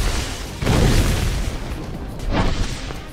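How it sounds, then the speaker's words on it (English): A fire tornado attack in the Archeblade multiplayer game roars with loud, booming whooshes, swelling in two heavy surges over a dense rumble close up. "Did you see that fire tornado?"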